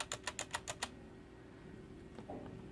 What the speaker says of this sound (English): So here is the spacebar again of the Cooler Master, the backspace, enter, shift,